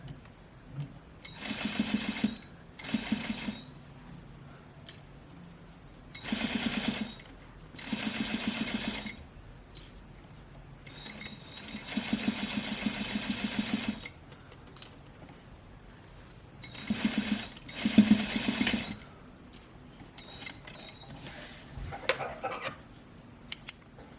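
A sewing machine stitches through fabric for a bound placket in a series of short, close bursts of rapid mechanical clatter separated by quiet pauses, several runs longer than others.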